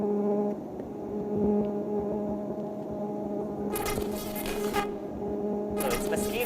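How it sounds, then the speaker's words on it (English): A recorded chorus of about twenty mosquito species buzzing together, steady layered high-pitched drones with sharper bursts of buzzing entering partway through, heard in a room under faint ambient hum. "This is a symphony of mosquitoes, exactly."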